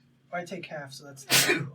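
A single short human sneeze bursts out near the end during casual talk among tabletop role-playing players, loud and close.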